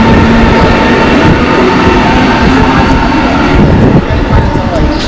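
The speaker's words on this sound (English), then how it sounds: "That's our train." A train standing at a station platform, its steady loud rumble and hum running continuously throughout while people talk over it.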